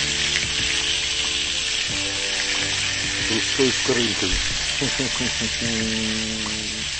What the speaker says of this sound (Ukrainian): Ставимо нашу чудо сковорідку і починаємо смажити